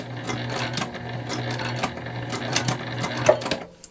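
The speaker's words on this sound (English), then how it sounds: "We're going to backstitch." A sewing machine runs steadily, backstitching a beginner east-west style wristlet, its needle chattering in a close, continuous rhythm with no talking.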